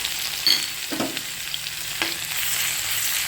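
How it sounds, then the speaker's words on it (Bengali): Grated ginger frying in a pan for a potato and pea dish, a steady close sizzle with occasional scrapes and clinks as it is stirred, with no talking. "আদাটা এরকমভাবে ভালো করে একটু নাড়িয়ে ছাড়িয়ে ভেজে নেব।"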